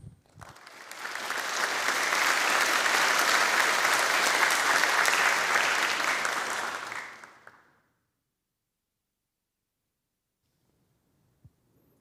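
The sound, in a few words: audience applause at university entrance ceremony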